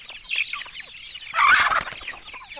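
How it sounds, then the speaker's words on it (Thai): Several chickens clucking and squawking close by, a busy flurry of calls that swells into a louder burst midway. "ไก่มันหิว"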